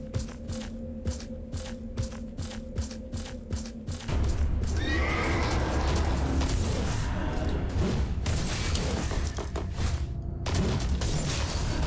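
Horse neighing in the video game Animus: Revenant, a loud drawn-out whinny over rumbling game sounds, preceded by a rapid rhythmic mechanical clatter and followed by hoof-like thuds.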